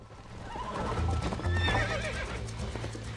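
A horse in Red Dead Redemption whinnies loudly and close, with its hooves clip-clopping underneath for a few seconds.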